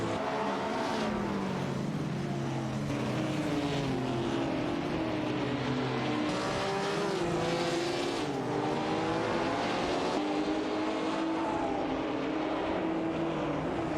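Race cars roar through a racing video game, their engines droning and shifting pitch as they jockey for position. The mix of engines is steady and continuous, with no voices over it.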